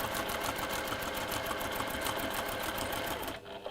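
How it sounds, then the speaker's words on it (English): A sewing machine stitches along a marked line on fabric, giving a continuous close whirring buzz with fast regular needle pulses that stops abruptly at the end. "So we start in the seam allowance area and we're going to sew on the line"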